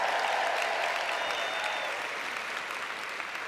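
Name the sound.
audience applause at a convention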